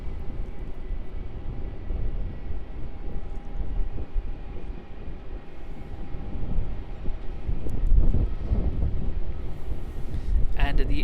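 Air India airliner arriving at Melbourne Airport, a broad low jet roar that swells toward the end, heard from a distance amid wind buffeting the microphone.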